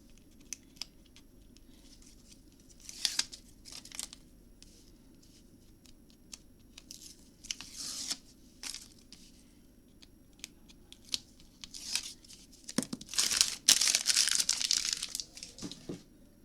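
A sticky adhesive sheet folded over and crinkled by hand while setting up a baby nursery on a farm, heard as faint, intermittent crackling and rustling bursts, louder and denser toward the end, with no talk.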